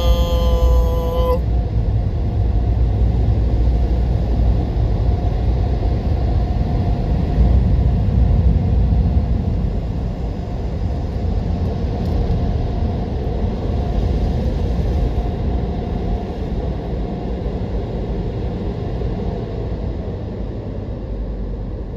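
An automatic car wash runs close around a car: a steady, dense wash of spraying and rumbling noise that holds for a long stretch and eases slightly partway through, with a brief tonal beep at the start and no talk.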